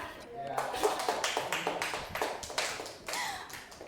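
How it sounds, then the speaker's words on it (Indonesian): Classroom group clapping for a student team during a microteaching session, a short burst of fairly loud, uneven claps that carries on for several seconds, with voices talking over it. "kita beri tepuk tangan untuk kelompok 2 ya."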